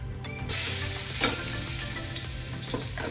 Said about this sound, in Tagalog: gigisa na natin ang sauce ng lechong paksiw. Kailangan maraming bawang